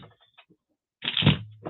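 A brief burst of tarot cards being shuffled, riffling loudly for about half a second after quiet, faint handling noises.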